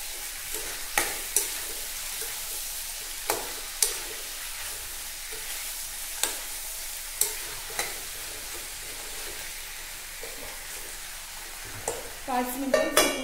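Green chillies being stirred with a spoonful of salt in a pan for an Agri-style mirchi sabzi: steady soft sizzling under repeated spoon scrapes and taps against the pan, ending in a louder clatter, with no talking.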